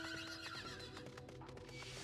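A horse whinnies in a short, quiet burst over a steady electronic-sounding backdrop, in the video game Final Fantasy XIV: Endwalker.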